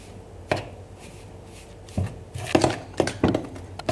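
Softened margarine being beaten together with powdered sugar for chocolate chip cookies, irregular soft taps and scrapes of a utensil against a bowl, quiet and close, becoming quicker toward the end.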